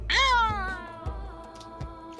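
A monster's screeching sonic wave in a tabletop fantasy game, a loud cat-like yowl that rises then slides downward, followed by a few faint thumps.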